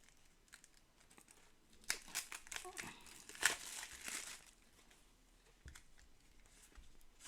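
Piles of colored cards for the Arkeis board game handled and shuffled on a table, with soft papery rustles and flicks, a denser crinkly flurry in the middle, quiet and close.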